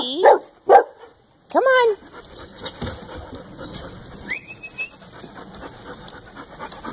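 A few puppies yip and bark in quick high bursts close by, followed by softer panting and shuffling in a small room while a person speaks briefly.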